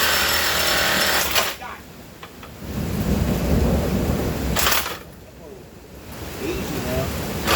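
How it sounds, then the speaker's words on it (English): Loud thunder rumbles through a storm, with heavy rain or low roaring between sharp bright bursts, continuous and close; a person talks over parts of it. "You can hear all that thunder too going on."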